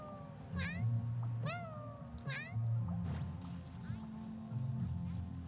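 A box cat in a video game meowing three times in quick succession, clear and close, over a low rumbling game backdrop with occasional thuds.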